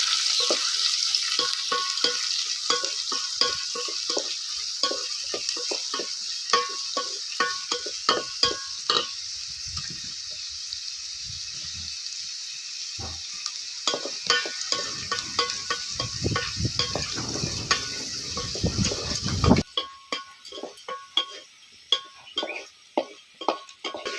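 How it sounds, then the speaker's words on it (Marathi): Onion fries and sizzles in a pan for a village-style mutton biryani, with constant hiss and frequent scraping, clinking stir strokes of a spoon, close and fairly quiet. "ह्याच्यामध्ये मी टाकते कांदा कांदा आपल्याला चांगला लाल असा भाजून घ्यायचा आहे"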